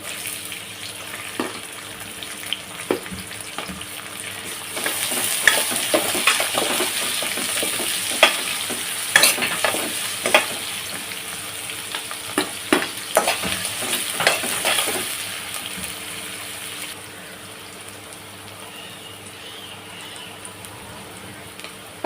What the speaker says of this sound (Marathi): आता मी इथे बारीक केलेला कांदा टाकत आहे